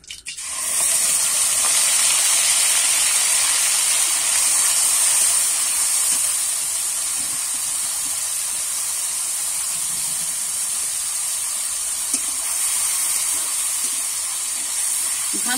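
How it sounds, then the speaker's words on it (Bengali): Ginger, onion and garlic paste frying in a pan, giving a loud steady hiss of sizzling that starts abruptly and holds evenly throughout, close and alone with no talk. "ভালো করে কিন্তু আমি আদা পেঁয়াজ রসুনটা কষিয়ে নেবো যতক্ষণ না কাঁচা গন্ধ যায়।"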